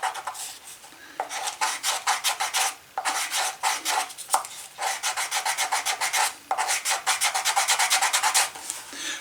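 Leather pancake holster edge being burnished, rapid rhythmic rubbing strokes in quick bursts, close and fairly loud, with brief pauses between runs and no talk.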